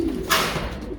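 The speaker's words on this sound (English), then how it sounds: "let's jump inside this old bird loft and have a look at the race birds." Racing pigeons coo in an old bird loft, a short, soft throaty call rising over a steady background hum of the enclosure.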